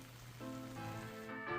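Steady rain falling outdoors on a self-build construction site where water has pooled on freshly waterproofed concrete, a soft continuous hiss with a few tonal hums underneath, no voices.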